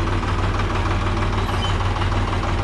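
An antique 1975 Ford 3000 tractor idles in a village, giving a steady, loud, low diesel rumble with an even pulsing throb and no noticeable change in pace.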